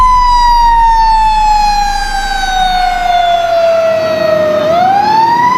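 A fire engine's siren wails loud and steady as the rig pulls out of the station, its tone sliding slowly down before rising again near the end, with no voices over it.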